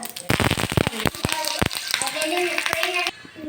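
Urad dal and chana dal crackle and sizzle in hot oil for a tempering, a dense spitting fry with sharp popping bursts, close and fairly loud throughout.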